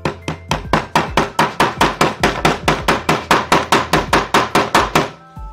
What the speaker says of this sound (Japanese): こういうのハンマーで叩いちゃう。